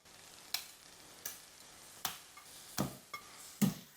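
Stuffed brinjals sit in hot masala in a kadhai with a little water added, giving a faint quiet sizzle broken by several sharp spoon clicks against the pan.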